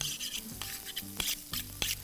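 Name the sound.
onions sautéing in a pan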